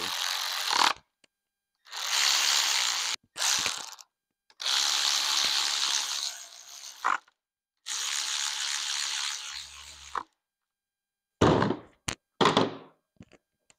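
A ratchet runs bolts down on an LT1 383 engine assembly for a 1997 SS, in several bursts of rapid mechanical whirring separated by silences, ending with short clicks and a knock.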